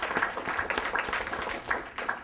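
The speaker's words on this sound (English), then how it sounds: "Let's give them a hand and thank them" An audience applauds panel speakers at a panel discussion, a steady crackle of many hands clapping together at moderate volume, with a few louder bursts over a couple of seconds.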